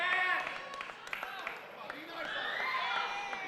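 A live wrestling crowd at Legacy Night roars and claps in a steady, distant wash, swelling toward the end, while a commentator talks over it.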